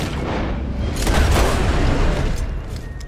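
Heavy booming gunfire rolls through a Red Dead Redemption 2 fight, a dense rumbling burst of shots swelling midway and easing off, loud and close with no talk.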